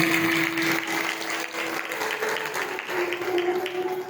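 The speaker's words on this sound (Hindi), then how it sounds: "एक बार और जोरदार तालियों से इसका स्वागत।" Steady applause from a crowd at a Shrimad Bhagavat Katha religious gathering in Panipat, India, dense clapping that continues evenly throughout with a constant tone humming underneath.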